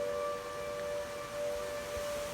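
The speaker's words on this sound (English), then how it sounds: "Right, that's a siren." A UK flood warning siren sounding in a flooded street, a steady sustained wailing tone of moderate loudness that holds without breaks, heard alone.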